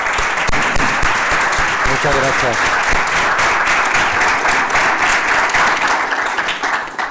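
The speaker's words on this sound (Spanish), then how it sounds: "Vamos a despedir a Igor con un aplauso." A lecture audience gives a gemology speaker warm farewell applause after his talk on spectroscopic methods: loud, dense clapping that continues throughout, with a brief spoken thanks near the start.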